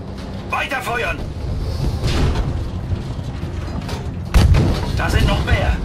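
Battlefield V combat gunfire, rapid bursts of shots and heavy booming impacts, including a sharp loud blast near the end, under shouted voices in German.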